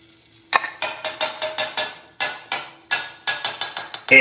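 A spoon scraping and tapping in a pan over a low flame as ghee goes in for coconut halwa: loud, close, rhythmic strokes in quick regular bursts with short pauses between runs.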